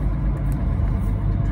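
A truck pulls slowly out through muddy puddles of water and clay in Indianópolis, Paraná, with a steady low engine rumble and a faint sloshing texture, close and continuous.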